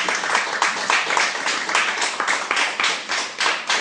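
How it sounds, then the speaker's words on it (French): A slam poetry audience claps in a quick, even, dense patter, close and lively throughout, with a few voices faintly mixed in. "est dédié à mon vieux frangin Pascal Coloco, qu'on applaudit aussi, s'il vous plaît."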